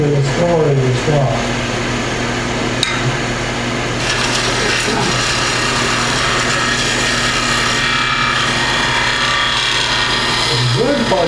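A woodturning skew chisel has its corner ground off: a continuous abrasive rasp over a steady motor hum, with people talking over the grinding.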